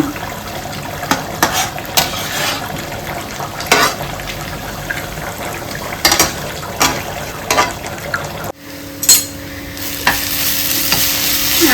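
Ghee sizzles in a pan for apple payasam, a continuous close frying hiss broken by irregular clicks and scrapes of a spoon stirring. Near the end a steady hum joins in, with no one talking.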